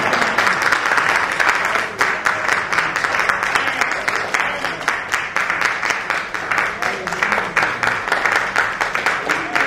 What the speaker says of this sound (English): Let's give God a hand clap of praise.